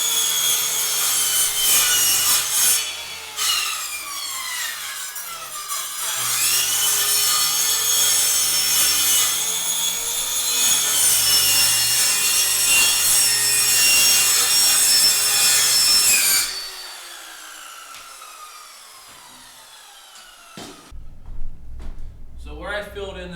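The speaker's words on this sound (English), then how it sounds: "that's kind of what I'll cut off with the circular saw right there" A circular saw cuts 3/4-inch particle board subfloor, producing a loud, sustained whining rip that runs in long stretches before stopping, followed by quieter handling knocks and brief speech.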